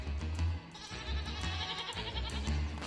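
A goat bleats in a meme, with several loud, wavering cries coming in short bursts close together over a busy background.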